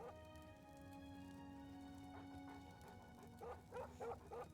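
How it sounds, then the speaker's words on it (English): Dogs bark and yip in the modded Oblivion video game, a short burst of several quick barks near the end, fairly faint, after a quiet stretch with a steady background hum. "Oh, there's dogs in here."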